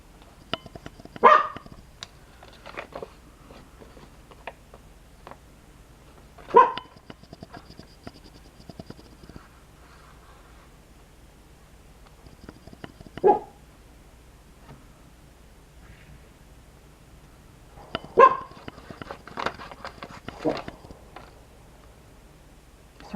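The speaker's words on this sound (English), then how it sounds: "Sorry about the dog barks, but there's a man up the street target practicing." A dog barks in scattered bursts, some single and some in quick clusters, with long quiet stretches between them, fairly close in a residential South Carolina street.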